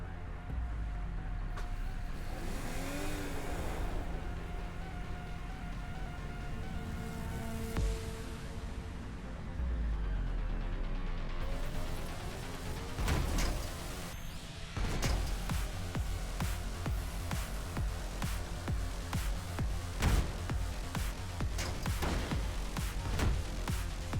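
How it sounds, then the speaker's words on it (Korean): A car accelerates at full speed in the video game Sanabi, with a continuous engine roar, rising revving sweeps and clattering game effects throughout. No one speaks. "악셀 있는 힘껏 밟아. 전속력으로 여기를 빠져나간다."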